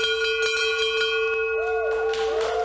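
Bell rung by Eagle Scouts marking their rank gives a loud, sustained metallic ring with strong overtones and a few repeated strikes, the tone wavering and shimmering as it carries on.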